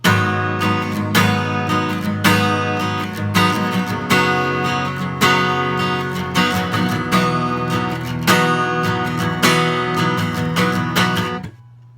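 Rhythmic strummed chords on a guitar, repeated evenly for several bars, close and clear, ending with a final ringing chord and no voices.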